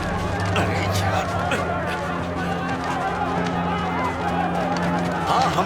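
Dense crowd gathered at an embassy gate, a loud, close press of overlapping voices and shuffling bodies, with steady babble and occasional distinct speech rising out of the constant hubbub.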